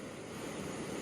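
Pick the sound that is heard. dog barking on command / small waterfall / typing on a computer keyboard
small waterfall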